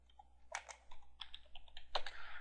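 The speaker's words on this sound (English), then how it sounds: "if we type in image feeds" Fingers tap out a short burst of typing on a computer keyboard, crisp close key clicks in an uneven rhythm in a quiet room.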